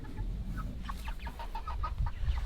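Several heavy-breed chickens on fresh pasture in a chicken tractor cluck softly in quick, scattered notes over a low rumble of wind or handling noise outdoors.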